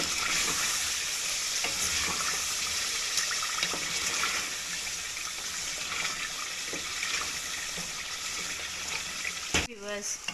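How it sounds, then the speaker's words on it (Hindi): Chicken with yogurt sizzles and fries in a pan for curry while a spoon stirs and scrapes, a steady close crackle with brief clatters and a short burst near the end. "चिकन हमारा अच्छे से भुन गया है।"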